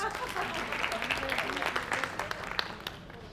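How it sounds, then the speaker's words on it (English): Participants at a public speaking workshop clap for themselves in a brief round of scattered applause, with voices talking over it. "give yourselves a big round of applause"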